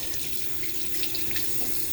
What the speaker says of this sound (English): first we turn on the water and we get our hands wet